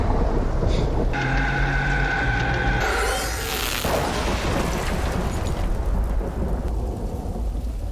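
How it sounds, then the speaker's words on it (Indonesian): A deep rumble of thunder rolls over steady rain, with a sharper crack near the middle before the storm noise settles back. "Dan ya entah petir dari mana"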